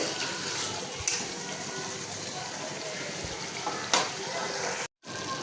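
Chopped taro leaves sizzle steadily in a pan as their released water cooks off, a constant hissing fry with a couple of soft clinks and a short gap near the end.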